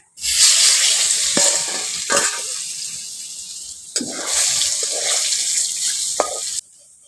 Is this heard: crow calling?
no